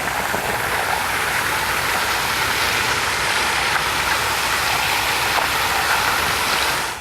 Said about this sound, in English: So Brian, in flushing the hydrant, how long will you leave the water squirt up